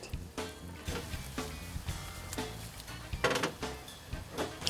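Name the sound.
risotto rice sizzling as mushroom stock is added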